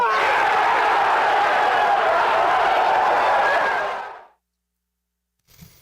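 Large live-radio audience roars with cheering and shouting, a loud sustained crowd pop lasting about four seconds before cutting to silence, with a brief faint sound at the end.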